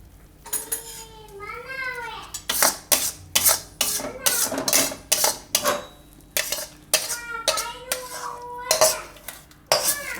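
Maida flour is roasted in a pan while being stirred, producing repeated metallic scraping and clinking of a spoon against the pan, close and rhythmic, with someone speaking between and over the strokes.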